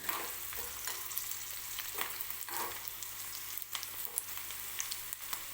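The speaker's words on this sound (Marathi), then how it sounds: "आणखीन एखादा मिनिटभर भाजायला लागेल हा कांदा" Steady oil sizzle of onions frying in a pan, with occasional stirring scrapes; no voices.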